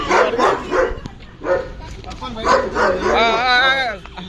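A dog barks in short bursts, then yips and whimpers with rising whines near the end, close by and loud, with people talking between the barks.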